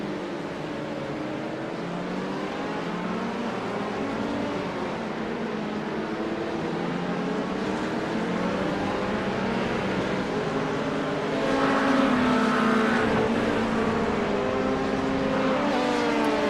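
LMP2 prototypes and GT3 race cars lapping Silverstone in a racing video game, several engines whining and shifting pitch together at high revs, swelling louder as cars close in.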